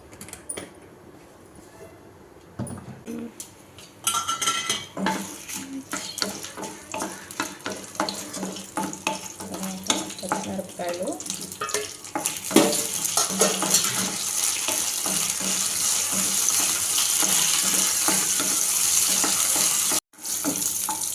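Mustard seeds and asafoetida fry in hot oil for a tempering, a steady close sizzle with crackling bursts that builds louder over the stretch, with no talk over it.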